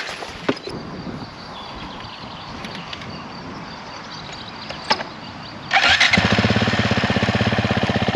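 A motocross motorcycle engine fires up after a quiet stretch, then settles into a loud, close idle with a steady, rapid pulsing throb.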